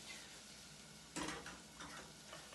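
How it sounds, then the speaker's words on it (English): A soft, steady sizzle of olive oil heating in a pan for white bean and spinach soup, with faint clinks and stirring sounds mixed in; quiet and close, no voices. "So we're looking for that nice little sizzle."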